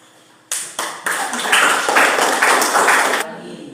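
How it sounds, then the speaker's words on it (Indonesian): Classroom group applause after a student presentation: clapping starts abruptly, swells into a dense, fairly loud burst of many hands for about three seconds, then stops. "Kita berikan aplaus untuk kelompok."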